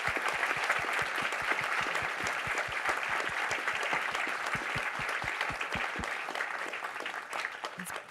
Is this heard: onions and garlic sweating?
no